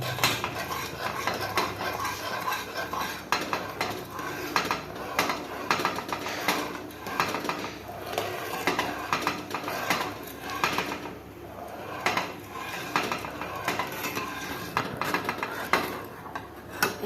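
A spoon scrapes and stirs milk in a pan as it thickens, making a dense, continuous run of close metallic scraping and clinking with no pause and no talk.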